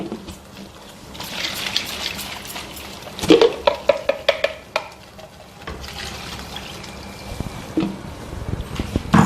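Sambar with curry leaves is stirred in a pot, giving soft liquid swishes and a run of quick clinking scrapes against the vessel midway, fairly close and without any talking.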